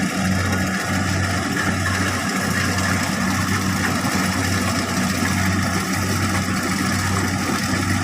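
A large farm tractor engine runs steadily at rice harvest, a loud, continuous low rumble and drone with no break, no voices over it.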